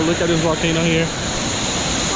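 Ocean waves wash along a volcanic shoreline in a continuous broad roar of surf, loud and close, while someone speaks over the start.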